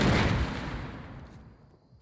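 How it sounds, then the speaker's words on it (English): A C4 charge detonates in Fortnite Battle Royale, a loud, close blast whose rumbling roar fades away over about two seconds. "C4 does huge damage to enemy structures, instantly destroying any structure in its explosion radius."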